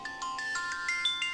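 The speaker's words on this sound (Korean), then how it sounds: "그리고 여동생의 스마트폰으로 다시 전화가 걸려왔다" A smartphone rings with an incoming call, a bright electronic ringtone melody of quick repeating notes playing steadily and clearly on its own.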